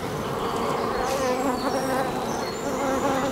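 Honey bees in an open Dadant hive during a colony inspection make a dense, steady buzzing swarm sound, close and loud throughout, with individual bees droning past at slightly shifting pitches.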